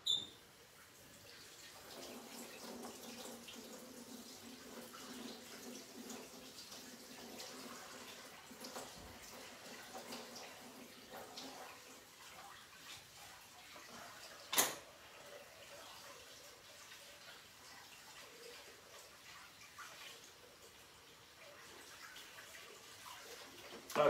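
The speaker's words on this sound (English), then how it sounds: "First, washing your hands." Hands are washed under a running tap, making a steady faint hiss of flowing water with occasional small clunks, quiet and continuous with no talking.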